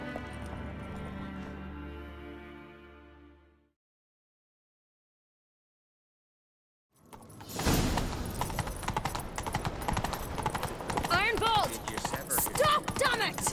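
A sustained musical tone fades to silence, then a horse's rapid hoofbeats clatter in a fast galloping rhythm, loud and close, with scattered game effects, in The Witcher 3: Wild Hunt.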